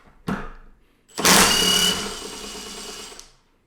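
A Milwaukee M18 Fuel 3/8-inch compact impact wrench with friction ring zips briefly, then runs a loud, sustained whirring burst for about two seconds while removing a bolt, dropping in pitch and fading before stopping.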